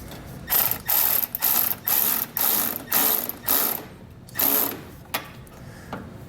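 Ratchet wrench tightening a bolt during a Firestone Ride-Rite air helper spring install on a 2022 Chevrolet: about seven quick rhythmic bursts of clicking, close and fairly loud, with pauses between strokes and no talk.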